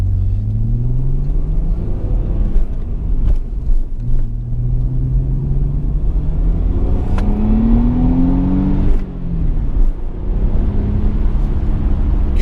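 A 1998 Audi B5 S4 Avant with Neuspeed parts accelerating up through the gears on a road test, its engine note climbing in steady sweeps with a continuous road rumble and no talk over it.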